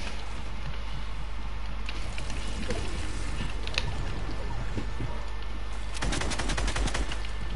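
Gunfire from a battle-royale shooter game: scattered single shots give way to a dense, rapid automatic burst near the end, loud and close over a steady background hum, with no speech.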